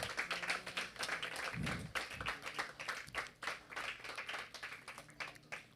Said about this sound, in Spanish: El aplauso para el Señor.